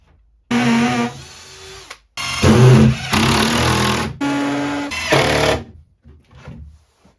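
A power drill drives screws into a wooden mitre station for a DIY workshop, in several loud, close bursts of whirring motor noise separated by short pauses, then fading.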